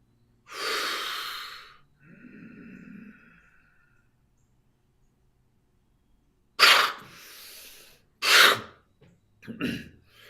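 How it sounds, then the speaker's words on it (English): Deep, audible breaths drawn in and pushed out by a person settling into a trance state, loud and close, with a breathy inhale, a quieter stretch and long silence, then several sharp, forceful exhalations near the end. "I do some breathing so I get into that state."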